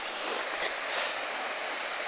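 A small waterfall at Turová produces a constant, hissing rush of falling water, steady and fairly soft, with no voices.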